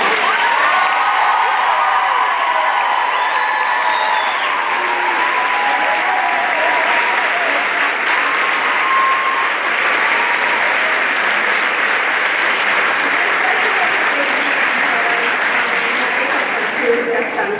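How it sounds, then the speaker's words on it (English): A high school audience gives a big, sustained round of applause for the stage and makeup crew after a senior honors performance of the musical Shrek, with dense clapping and scattered cheers filling the room for the whole stretch. "So we're going to give them a big round of applause."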